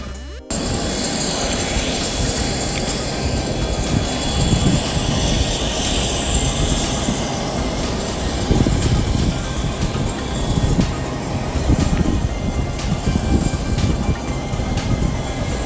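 A private jet's engines roar steadily and loudly from inside the cabin, a continuous broad whine and rumble that holds for about fifteen seconds with slight swells and no talking.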